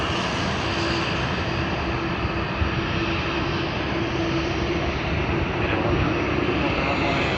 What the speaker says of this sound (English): Cathay Pacific A350-900. It has begun its takeoff roll